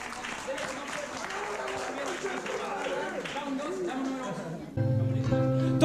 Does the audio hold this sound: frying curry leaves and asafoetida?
no